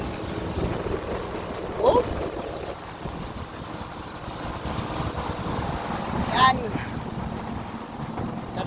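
A fast motorboat speeding along a river: a steady engine drone under heavy wind buffeting on the microphone, with two brief louder surges midway.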